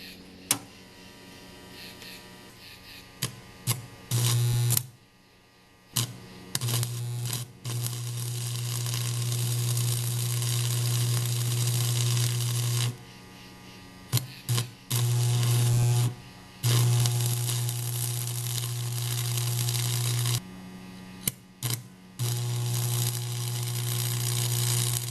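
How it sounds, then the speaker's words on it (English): A 1940s arc welder burns 3/32 inch rods in repeated long bursts of buzzing crackle over a steady electrical hum, stopping and restarting several times with brief quiet gaps. "So we're going to try 3/32 inch welding rods, and I think this welder will even have no issues with 3/32."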